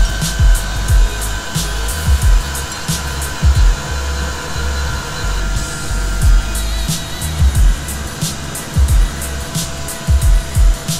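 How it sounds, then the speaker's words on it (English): A Tormach PCNC 1100 CNC mill cuts G10 while a dust collector and cyclone run, giving a loud, steady whooshing drone scattered with repeated sharp cutting ticks throughout. "This dust extraction on the Tormach has been working really well."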